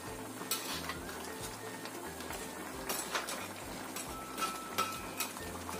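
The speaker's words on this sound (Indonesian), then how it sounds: "Kita masak sampai airnya ini agak asat dan bumbunya itu menyerap ke dalam kepitingnya ini" Crab simmering in oyster sauce in a pan gives a steady low sizzle and bubbling, punctuated by repeated scraping stirs and clinks of a utensil against the pan, with no talking.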